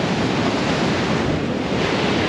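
Ocean surf rolls onto a beach after a storm surge, a steady, loud, unbroken roar of breaking waves with wind buffeting the microphone throughout, no voices.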